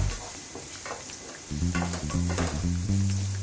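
Potatoes and onions sizzle and crackle in hot oil while being stirred, a steady frying hiss with some clinking and low tonal sounds in the background.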